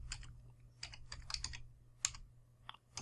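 Computer keyboard typing in short, uneven bursts of close clicky keystrokes over a steady low hum, with pauses between words and no voice.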